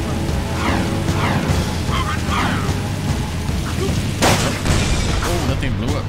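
A Jak II explosion in the PS2 classic running on PS5: a loud, broad blast bursts out about two-thirds of the way through, over a steady bed of game music and action effects.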